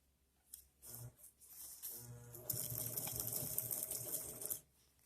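A 1949 Singer overlock sewing machine stitches in short bursts at first, then settles into a steady, fairly close mechanical whir with a fine rattling chatter for about two seconds before stopping.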